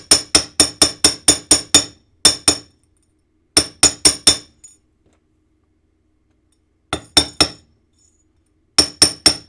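Sharp metallic hammer blows chasing a metal jewelry piece, struck in quick bursts of six or seven taps separated by short pauses, close and clear with no talk.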